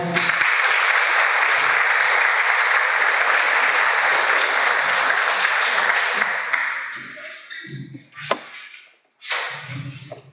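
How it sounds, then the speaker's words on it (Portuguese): A church congregation in São Pedro do Itabapoana applauds Dr. Pedro Antônio during an organ blessing and the priest's farewell; steady, full clapping lasts about six seconds, then thins out into scattered claps and small knocks. "uma salva de palmas"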